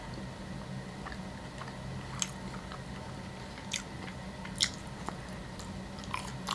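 Someone bites into and chews a crunchy KFC chicken sandwich up close, with scattered crisp crunches at irregular moments over a low steady room hum and no talking.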